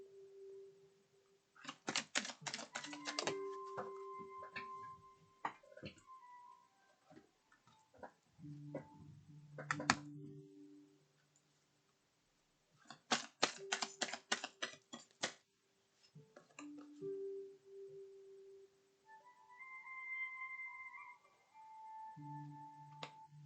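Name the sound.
shuffling oracle cards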